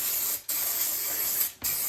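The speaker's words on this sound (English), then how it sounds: "we'll just kind of spray this down with some contact cleaner first on the outside" Contact cleaner hisses in two long continuous bursts from an aerosol can, sprayed over the outside of a carburetor on a KTM 85 dirt bike, with a brief pause between them.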